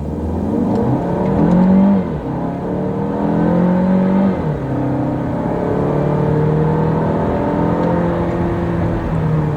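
Jaecoo J7 Glacier SUV in normal mode accelerating hard, its engine rising loudly through several climbing pitch sweeps as it pulls up through the gears, with a steady road and wind roar underneath and no talking.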